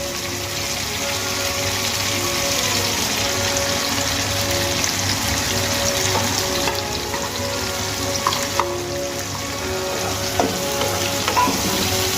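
Tomato and green chili frying with ginger and cumin paste in a pan make a loud, continuous sizzle with occasional utensil scrapes and clicks, steady across the whole stretch and free of talk.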